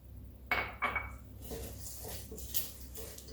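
Granola ingredients, sliced almonds among them, being mixed in a bowl, with a couple of sharp utensil clinks against the dish followed by softer scraping and stirring, close and fairly quiet.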